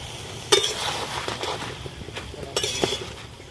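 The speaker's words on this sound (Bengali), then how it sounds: "এবার ওলের ডাঁটাগুলো দিয়ে দেব।" Amorphophallus (ol) stalks go into a wok holding a little water over a lit stove, producing a sharp clink at first, then soft scattered taps, rustles and a second metallic knock, close and fairly quiet.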